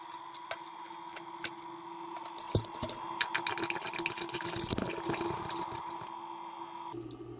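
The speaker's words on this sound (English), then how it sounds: "lot of water coming through." Water runs through a sump pump line after a check valve replacement, with scattered drips, ticks and splashing that build into a busier gurgling flow in the middle, quiet and nearby.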